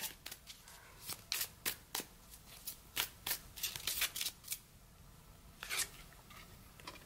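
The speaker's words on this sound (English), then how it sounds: "let me pull another card before I start speaking to that" Tarot cards are shuffled and one is pulled, giving quiet, crisp riffling flicks in uneven bursts that fade to a soft slide and one last snap.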